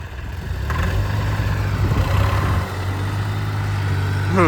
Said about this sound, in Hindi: जा ट्रैक्टर भी हो गई है चालू